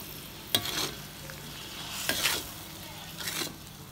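A spoon scrapes and stirs through simmering vendhaya kulambu as salt and sugar are mixed in, with three soft stirring strokes spaced out over a quiet bubbling background.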